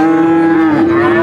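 A cow lets out a loud, sustained moo at the Pasar Sapi Pon cattle market in Purwokerto, a single drawn-out low call held steady close by with crowd murmur beneath.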